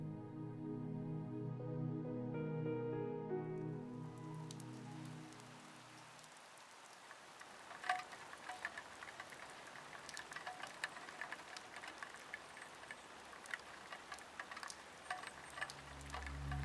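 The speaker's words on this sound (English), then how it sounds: "A delicate rain pattering on the glass gently eases Lily into wakefulness." Delicate drizzle pattering on window glass on an autumn morning, a dense, soft patter of close drops with occasional louder taps, emerging as a fading musical tone gives way.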